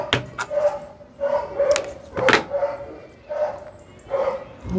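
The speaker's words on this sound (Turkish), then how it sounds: "komşunun köpeği de coştu coştu. Mübarek hiç susmuyor." A neighbour's dog barks repeatedly in a steady series of short, sharp barks, moderately near, with no talk over it; some outdoor background noise sits beneath.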